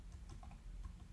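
Soft, quiet clicking of a computer keyboard as code is typed, a few light irregular taps under a low background hum.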